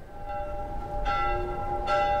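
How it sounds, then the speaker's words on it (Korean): Church bell tolling in the video game The Last of Us, two loud resonant strikes about a second apart, each ringing on with sustained overtones above a low rumbling background. "종소리 그만 울려."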